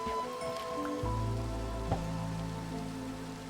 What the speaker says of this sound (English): It felt oddly comforting fishing in the rain.